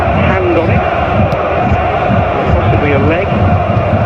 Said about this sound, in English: The crowd chanting his name